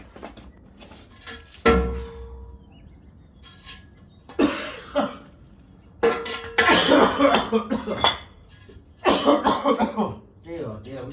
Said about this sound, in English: we should be getting rid of this cough